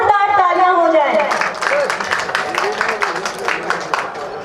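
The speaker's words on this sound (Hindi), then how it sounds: "जोरदार तालियां हो जाए।" Loud audience applause at an inauguration ceremony for a regional Khadi and village industries exhibition at Magh Mela, rising after a brief voice and continuing as a dense, steady clatter of many hands with some talk beneath.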